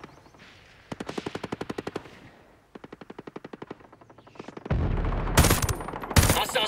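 Rapid automatic gunfire in the video game Ghost Recon Breakpoint on Extreme Mode, with two loud bursts of evenly spaced shots, then heavier blasts and harsh crackling at the end.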